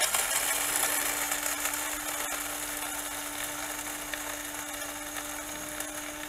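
A Magio electric coffee grinder grinding 22 grams of coffee beans, a steady high motor whine with gritty crunching, fairly close, easing slightly in level as it runs, with no talking.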